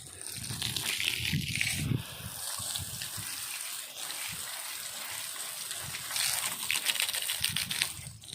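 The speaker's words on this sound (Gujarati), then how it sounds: "મિત્રો ટ્રેક્ટર આપણે ધોઈ નાખ્યું છે" Water splashes and gushes over a tractor being washed outdoors, a continuous rushing spray with irregular surges and patters, moderately quiet and without speech.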